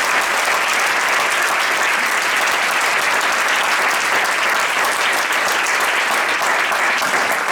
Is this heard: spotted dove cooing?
no